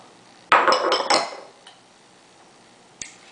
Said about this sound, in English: And you're going to whisk to combine.